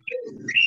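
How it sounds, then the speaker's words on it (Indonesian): A bird calls noisily in the background of an online webinar, with a short chirp followed by a louder, sustained call that rises in pitch toward the end. "Siapa tuh yang ada burung berisik banget?"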